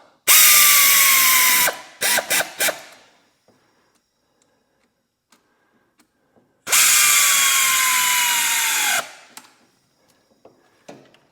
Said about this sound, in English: Tighten the hose clamps.